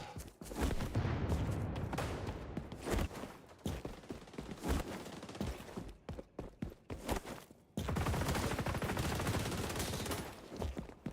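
Gunfire in the shooter game XDefiant: loud, rapid bursts of shots crackle almost nonstop, with short pauses and a final sustained stretch of firing.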